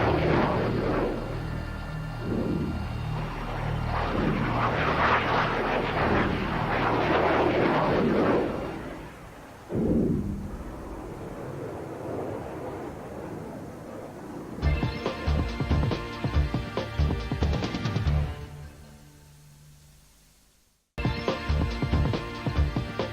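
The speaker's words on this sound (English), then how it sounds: "The waves of aircraft leaving on bombing missions get priority in the race for takeoff slots." RAF aircraft depart from an airbase on wartime bombing missions. A long roar of engines swells and fades, then a pulsing, rattling engine drone runs on and cuts off abruptly before starting again.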